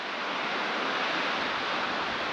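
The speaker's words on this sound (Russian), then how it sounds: "Невероятно. Такие волны красивые." Sea waves wash against the shore near Ordzhonikidze in Crimea, a steady, full roar of surf with no pauses and no voices.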